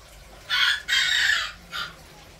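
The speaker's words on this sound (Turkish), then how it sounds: "Şu horoz da ötmezse güzel olacak." A rooster crows nearby at a fish-keeping spot, one long call broken into bursts with a shorter final note, loud and clear over quiet background.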